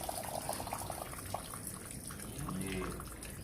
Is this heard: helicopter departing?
no